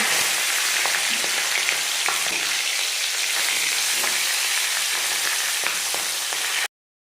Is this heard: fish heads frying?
yes